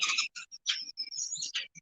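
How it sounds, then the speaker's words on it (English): Birds call loudly and close by in a rapid run of bright chirps and whistles, with brief gaps between the notes. "Oh, those birds are loud."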